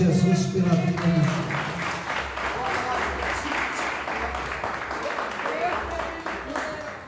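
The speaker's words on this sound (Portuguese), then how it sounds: "Vamos aplaudir Jesus pela vida de Jesus." A church congregation applauds together, dense clapping filling the room at steady loudness, with a voice speaking briefly over the start.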